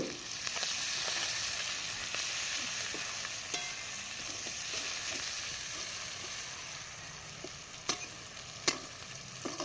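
Crushed garlic, green chili and chopped onion fry in oil with whole cumin for a fish-head moong dal, giving a steady close sizzle broken by a few sharp spatula clicks near the end.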